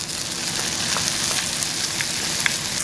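Orzo and peppers frying in a pan while cooking Ankara tava: a steady, close sizzle with faint crackles and pops throughout.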